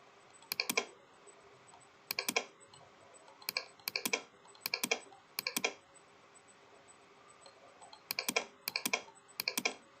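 Short, quick bursts of clicking keystrokes on a computer keyboard, pressed in tight clusters of a few taps each with brief pauses between, as text is deleted; fairly quiet and close, with no speech.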